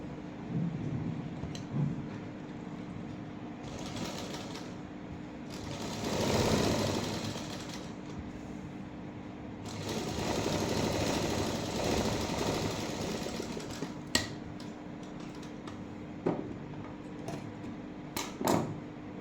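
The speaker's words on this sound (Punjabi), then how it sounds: "ਇਸੇ ਤਰ੍ਹਾਂ ਹੀ ਮੈਂ ਫਰੰਟ ਤੇ ਲਾ ਲੂੰਗੀ ਸਲਾਈ" A sewing machine stitches lining into a silk garment sleeve in several bursts of whirring, rattling motor noise separated by quieter pauses and light handling clicks, close by and moderately quiet.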